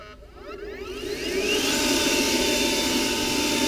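An EGO 56-volt cordless leaf blower runs on high, then ramps up to turbo, its loud steady whine rising and thickening into a broad roaring rush of air as it blasts a pile of leaves.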